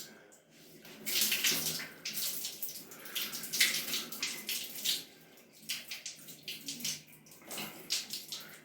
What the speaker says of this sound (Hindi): इसमें अब पानी डाल के एक बार और क्लीन कर दूंगा